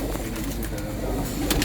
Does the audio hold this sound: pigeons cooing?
yes